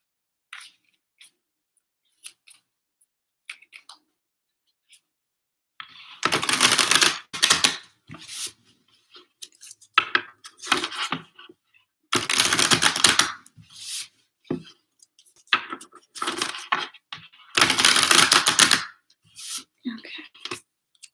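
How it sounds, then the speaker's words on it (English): Homemade oracle cards are shuffled and handled in several bursts of crisp, dense riffling and flicking, separated by quiet gaps with soft taps and small movements. "I'm going to draw these homemade oracle cards."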